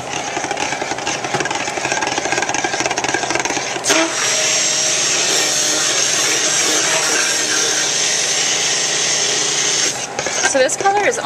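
Soap batter for a green tea exfoliating soap is mixed in a soaping pot, with a loud, continuous rasping and scraping churn up close that runs almost unbroken, with a few sharper knocks near the start and end.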